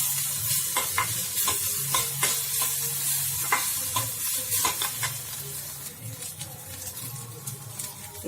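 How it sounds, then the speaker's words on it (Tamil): Onions and coconut sautéing in a pan for tomato chutney, a continuous close sizzle broken by frequent rhythmic scrapes and taps of a spoon stirring, no voices. "இந்த அளவு வெங்காயம் வதக்கிடணும்."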